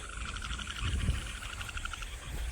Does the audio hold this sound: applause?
no